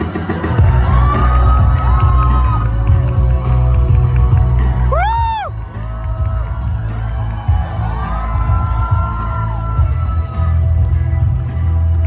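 A live audience at a Delhi stage show cheers, whoops and shouts in a loud, steady crowd roar that runs throughout, with a brief rising whistle-like cry near the middle.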